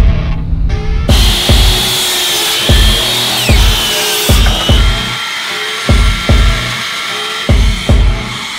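A power saw repeatedly cuts wood planks for a board and batten accent wall, about a dozen short loud bursts at a fairly regular pace over a steady motor whine, close and alone.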